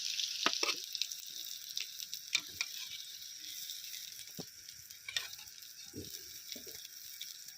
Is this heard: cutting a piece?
no